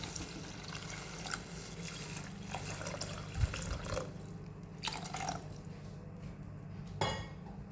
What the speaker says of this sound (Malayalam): ആവശ്യത്തിനുള്ള വെള്ളം ചേർത്ത് കൊടുക്കാം.